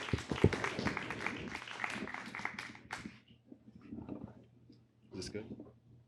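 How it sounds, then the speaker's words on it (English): Applause for the poet Sunlight the Poet breaks out at a live event, a dense burst of clapping for about three seconds that thins into scattered claps and voices, with talk rising afterward. "give a nice round of applause for Sunlight the Poet"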